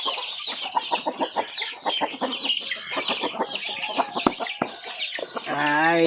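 Chickens with a brood of about eighteen chicks cluck and peep busily at feeding time in a rural yard, close by, with rapid overlapping calls, a few sharp clicks, and a crow-like call near the end.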